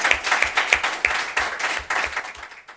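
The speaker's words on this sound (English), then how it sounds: "So I would like to give a round of applause for Alice" An audience at a conference session on a building renovation project claps after a presentation, with a short, steady burst of close applause that fades out within a few seconds.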